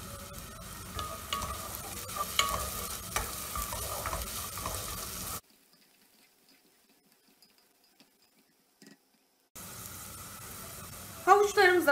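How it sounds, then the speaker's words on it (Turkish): Diced carrots sautéing with onions in a pan, a steady sizzle and stirring that drops to near silence midway, then returns with scraping. "Üzerine küp küp doğradığımız havuçları ekleyelim. Havuçlarımızı biraz sotaleyelim."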